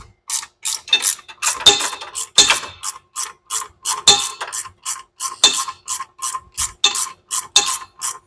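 Repeated rapid ratchet clicks in steady bursts of about a second, loud and close, as a bolt is tightened while fitting headers on a budget turbo Mustang; no talk.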